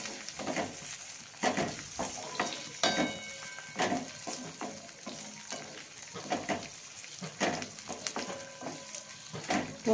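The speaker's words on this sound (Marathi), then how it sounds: "टोमॅटो थोडेसे परतून घ्यायचे" Lengthwise-cut tomatoes with onion being fried in a pan for masala bhindi, a soft sizzle broken by repeated spatula stirs and scrapes in an uneven rhythm, close and moderately quiet.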